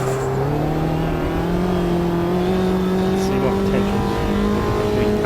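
A Mini race car engine in the Automobilista 2 racing game drones loudly and steadily at high revs, its pitch rising slowly as the car accelerates, filling the whole clip.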